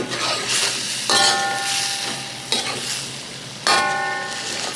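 Gizzard and chicken feet fry in a pot with a constant sizzle, while a metal utensil stirs and scrapes, striking the pot with three ringing clangs.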